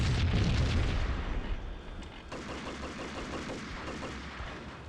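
Gunfire in the game Max Payne, with a heavy booming blast at the start fading into a rumble, followed by a rapid run of quieter, muffled shots in a fast rhythm.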